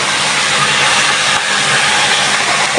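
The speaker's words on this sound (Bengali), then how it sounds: "এখন কচু ভাজিটা করে নিই।" Taro (kochu) pieces frying in a pan, a dense, even, continuous sizzle of hot oil that stays loud and close throughout with no voices.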